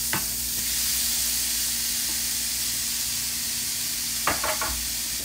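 Pineapple sizzling in a hot pan with garlic for curry pineapple shrimp, a continuous loud frying hiss with a few sharp clatters of stirring near the start and end.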